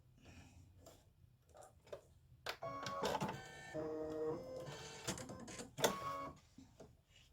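An embroidery machine stitches scrolls onto card stock for a greeting card, giving a rapid mechanical clatter and whir that builds to a dense, steady run in the middle, with quieter bursts at the start and end.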